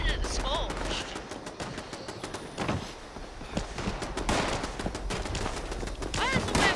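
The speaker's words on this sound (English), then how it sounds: "Man, the explosive turrets are horrible. Yeah. They're shooting at the scorched." Explosive turrets in Fallout 76 fire at scorched enemies, loud rapid bursts of sharp gunshots and blasts cracking in quick succession, with voices talking between the shots.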